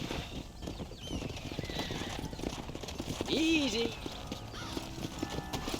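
Horse hooves clip-clopping in a rhythmic stream during ranch gameplay in Red Dead Redemption, with a brief whinny midway and someone speaking over the hoofbeats.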